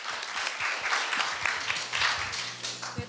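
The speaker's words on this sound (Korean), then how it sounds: "질문을 해주신 이다은 학생에게 힘찬 박수 부탁드립니다" Audience at a Korea University speech contest claps steadily for a student who asked a question, a dense wash of applause filling the hall with some quiet murmuring beneath.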